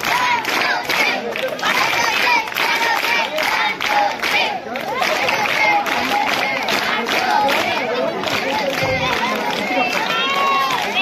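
Students at a school felicitation and free-distribution event clap in a loud, dense, sustained burst that blends with the hubbub of the crowd and voices.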